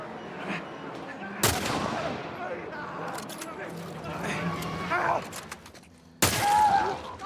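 Two sharp, loud rifle shots crack several seconds apart during an infected fight in The Last of Us Part I, with game ambience and a voice talking in between.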